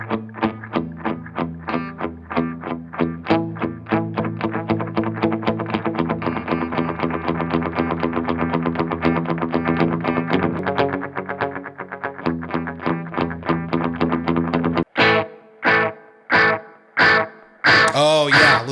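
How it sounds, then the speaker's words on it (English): Third Man Triple Threat guitar pedal with its echo effect engaged: a run of rhythmic electric guitar notes with repeating delayed tails, fairly loud and continuous, ending in a few spaced, ringing stabs that trail off. "Let's talk about the echo, which might be the part I'm most excited about at this point."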